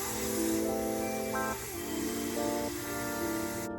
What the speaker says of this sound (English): So I'm going to do another layer of spray just to make sure this cap is secure